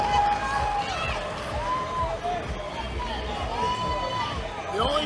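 A powerlifting crowd at a squat competition roars in a dense, continuous wall of cheering and shouting, with whistles and individual voices rising out of the din throughout.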